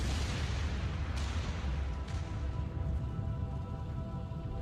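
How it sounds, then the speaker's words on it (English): Deep rumbling blast of a comet striking Earth, a sustained heavy roar with a couple of sharp bursts cutting through and a faint tonal hum beneath. "The biggest explosion of all time."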